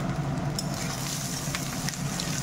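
Leftover day-old rice tipped into a pan of frying vegetables with salt, giving a steady close sizzle and crackle with a few soft stirring scrapes.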